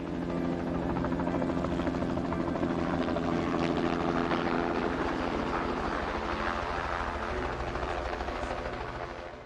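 A helicopter spreading poison bait over New Zealand forests and waterways thrums loud and steady overhead, its rotor chop continuous throughout at close range.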